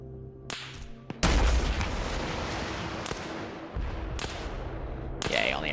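In a military video game, a rocket launcher hit and gunfire come as sharp, loud bursts, followed by a sustained roaring blast and further cracks. The sound is close and heavy.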